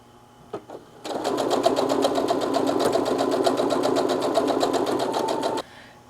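A sewing machine runs steadily for several seconds, its rapid even needle chatter stitching a self-binding minky blanket, close and alone, stopping abruptly after a few faint clicks at the start.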